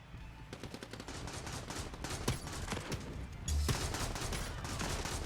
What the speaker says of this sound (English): I'm gonna go this submachine gun